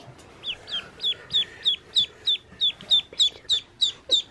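A baby duckling peeps in a steady run of about a dozen high, clear chirps, evenly spaced and close, over a quiet background.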